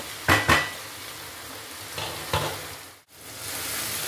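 Ginger-garlic paste fries in a pan for a mutton curry, a steady close sizzle with a few utensil clinks and scrapes against the pan, no voices.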